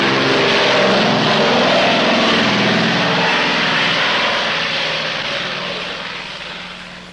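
Propeller planes roar at an airstrip with no navigation aids that handles hundreds of takeoffs and landings a day; a loud, steady engine drone fills the scene from start to finish and eases off slightly toward the end.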